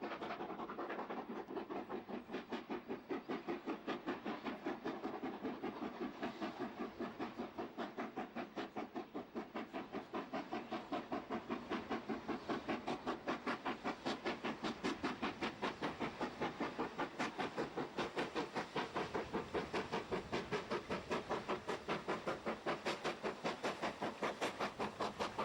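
Steam locomotive working on the North Yorkshire Moors Railway near the three-arch bridge at Darnholme, a steady rapid chuffing beat with hiss that carries on throughout at moderate distance.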